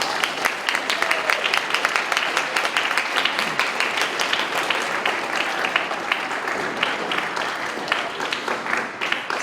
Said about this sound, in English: let's give your family and friends a big round of applause for all they do to support you